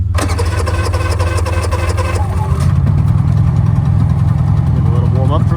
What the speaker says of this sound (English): And to fire up the generator, this is a Honda generator